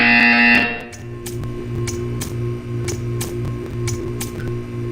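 A short electronic buzzer tone from the Portal 2 video game sounds loud and steady for about half a second, then gives way to a low mechanical hum with regular faint clicks.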